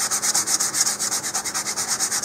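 A model rocket part is sanded by hand while seated in its body tube, giving quick, rhythmic back-and-forth rasping strokes, close and even, roughly ten per second.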